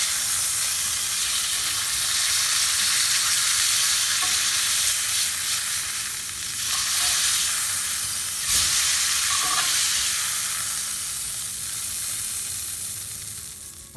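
Steak searing in a hot pan alongside mushrooms gives a loud, steady sizzle with crackling spatter, continuous throughout with a few brief sharper pops and no talking.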